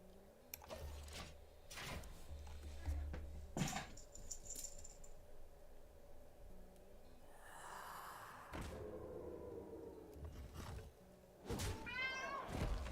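A very old cat named Mr. Rusty meowing a few times amid quiet indoor clatter, the calls fairly close and separated by pauses.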